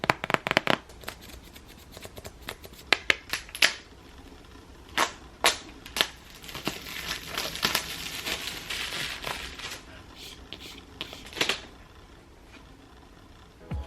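An Apple Watch Series 6 box is unboxed in a quiet room, with close, crisp taps, clicks and rustling of the packaging in irregular bursts and no talking.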